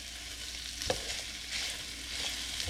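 Onions and ground pork stir frying in a pan, a steady close hiss of sizzling with a few scraping stirs, no talk.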